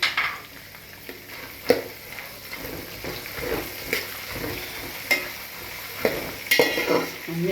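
Ingredients for atukula (flattened rice) with curry leaves and a little coconut being stirred and mixed in a frying pan, spoon scrapes and clacks repeating at an irregular pace over a steady soft sizzle, close and moderately loud.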